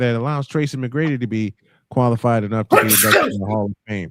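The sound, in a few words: sneeze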